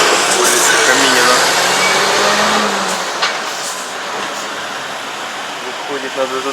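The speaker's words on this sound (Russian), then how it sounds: "Выходит на эту довольно оживленную улицу, где постоянно пробки." Steady traffic roar rises from a busy, often jammed street in the Arkadia district of Odessa below a hotel room, a constant broad hiss of passing cars under someone speaking.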